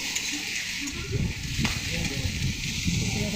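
Ivy gourd (kundri) bhaji frying in a pan, a steady close sizzle with light stirring scrapes throughout.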